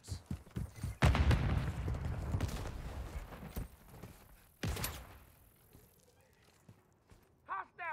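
Grenade blast in Call of Duty: Modern Warfare III on the Afghan mission: a heavy thump with rolling rumble early on, then a second sharp burst a few seconds later, with game voices and combat noise around them.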